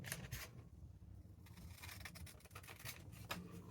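Scissors snip around a small paper shape at a craft table, with a quick run of close, quiet, crisp cuts and light paper rustle and no talking.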